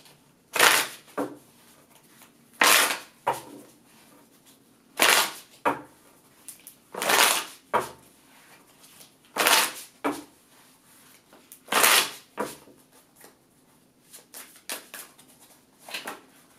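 Tarot cards shuffled for a psychic reading, heard as a series of crisp riffling bursts roughly every two seconds, close and fairly loud in an otherwise quiet room.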